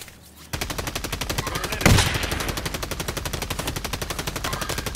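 Rapid automatic gunfire in the shooter Warzone, a long fast rhythmic burst of loud close shots starting abruptly after a quiet moment, with one heavier impact partway through.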